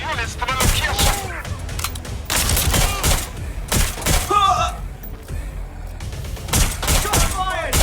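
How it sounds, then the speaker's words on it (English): Rapid bursts of gunfire in the video game Watch Dogs Legion, with loud cracking shots and clattering volleys in uneven clusters and brief lulls between them. "Shots fired!"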